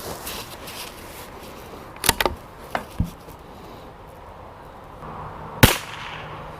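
A Savage MKII FV rifle fires Lapua Super Long Range rounds at targets 200 yards away. A few sharp, cracking reports stand out against steady outdoor noise, with the loudest single shot near the end.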